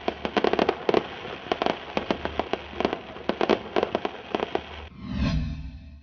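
Green firecrackers burst during Diwali celebrations in Rajasthan in rapid, loud crackling volleys, followed by a deeper rumbling boom near the end.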